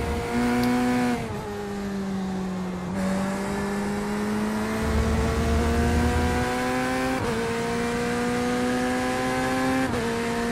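GT hypercar engines in the VRS Sebring racing game hold a sustained high-pitched drone with shifting gear changes and pitch steps. Multiple cars are audible throughout at a constant, fairly loud level, with no talk.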